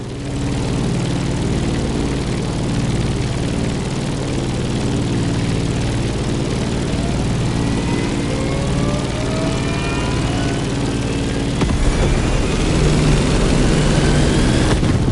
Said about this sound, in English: Now it's time to go with a more compact and versatile option, the motorbike. Our choice, the BMW R1200 GS.